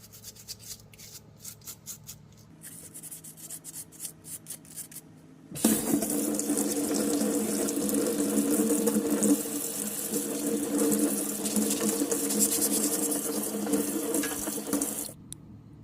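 A brush scrubbing abalone shells, first as quick, close bristle strokes in short rhythmic bursts, then under a loud stream of running tap water that gushes steadily for about ten seconds before cutting off.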